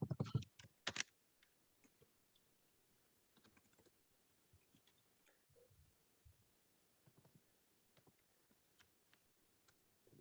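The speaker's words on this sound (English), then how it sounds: "Wish I could type a little bit faster." Clicky typing on a computer keyboard, loud bursts at first and then sparse, quieter keystrokes tapping irregularly in a quiet room with no one speaking.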